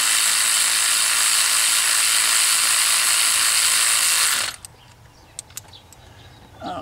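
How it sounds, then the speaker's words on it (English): Rapid ratchet wrench clicking while snugging a spark plug into a 2.4L Chevy HHR engine, a close continuous buzzing ratchet for about four seconds that stops abruptly, followed by quiet with a few faint metallic ticks. "going to run this down a little bit with this wrench here"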